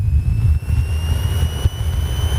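A light aircraft's piston engine held at 2,000 RPM during a ground run-up, a steady low droning roar with a faint high whine, continuous and close, with no talk.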